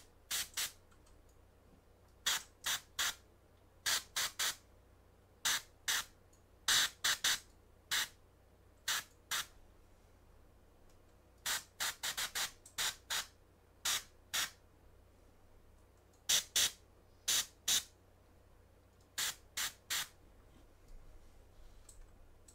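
An airbrush glazes paint onto a miniature's cape in many short, sharp hissing bursts, each under a second, spaced irregularly with brief quiet gaps, close and clear, with no voices.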